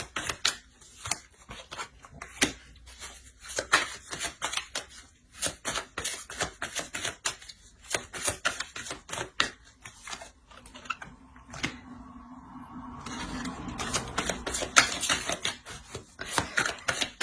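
Tarot cards being drawn from the deck and laid down, with rapid papery flicks and soft taps in a dense, uneven patter, later shifting into a steadier shuffling rustle.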